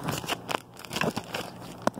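Ice cubes are dropped and shuffled into a plastic bag, giving a string of crunchy crackles and rustles with a sharper clack near the end, close and fairly loud.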